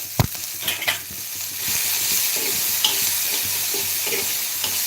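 Khichdi ingredients roast in a pan with a steady, close sizzle after a few sharp clinks and scrapes of a spoon at the start, the frying hiss continuing evenly throughout.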